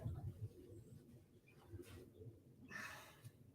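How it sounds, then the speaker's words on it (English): A soft, dove-like cooing bird call sounds faint and somewhat distant in a quiet backyard flock setting. "Bird."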